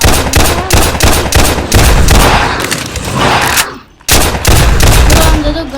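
Rapid bursts of gunfire from a Roblox zombie survival game, sharp repeated shots in quick volleys with a brief gap before firing resumes, loud and close.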